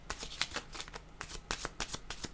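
A deck of tarot cards is shuffled at close range, giving a quick run of crisp riffling flicks in steady bursts, with no voice over them.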